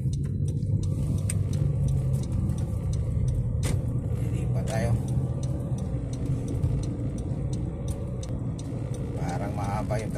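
Traffic on a Makati street sends up a steady, close rumble of car engines that never lets up, with people talking over it.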